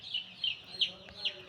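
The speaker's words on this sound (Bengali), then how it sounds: "এখানে 1000 মুরগির বাচ্চা কালার বাট, আজকে বয়স 8 দিন।" Eight-day-old colour-breed chicks, among about a thousand on a poultry farm, make a few faint, high, thin peeps spaced across a brief, quiet moment.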